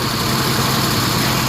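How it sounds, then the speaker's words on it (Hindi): A Suzuki Ravi or Bolan 3-cylinder engine, model years 2012 to 2019, idles close and loud with a dense, steady drone and a constant rough vibration and no break. "जैसे ही वापस लगाई तो इंजन फिर वापस ठीक हो गया।"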